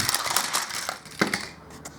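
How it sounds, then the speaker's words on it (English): A Disney Cars toy car, Lightning McQueen in World Grand Prix livery, smashes into the Gloy billboard on a Crash 'N' Change Speedway plastic track, with several quick clattering plastic impacts and a rattling tumble, close and fairly loud. "Let's try crashing the globy billboard with the proper car."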